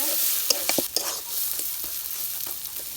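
Taro leaves sizzle in a hot pan while a spoon stirs them in a quick cluster of scrapes and clicks, then the frying settles into a softer, steady hiss.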